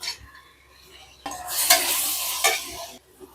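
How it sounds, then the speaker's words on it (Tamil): Onions and tomatoes sautéing in a pan while being stirred, with a soft sizzle rising into louder scraping and stirring bursts near the middle, then easing off. "வெங்காயம் நல்லா வதங்கிருச்சு வந்து காக்கில் தக்காளி பழம் அறுத்து வச்சுருக்கோம் அதை போட்டுக்கலாம்"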